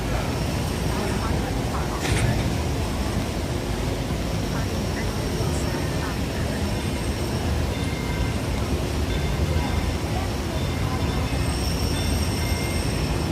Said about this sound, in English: this monorail is going to have to go all the way around and come back